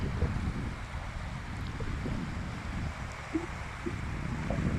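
A steady low trawler boat engine drone with wind rushing over the microphone, continuous and even throughout, with faint splashes of water now and then, near Tarua sea beach, Bhola.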